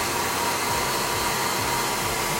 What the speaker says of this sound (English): Really get right in there with the dryer immediately.